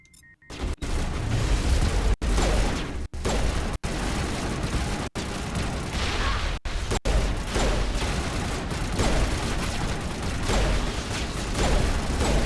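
A pistol fires in Mass Effect amid a loud, continuous wash of combat noise, with sharp reports spaced every second or so and no talking.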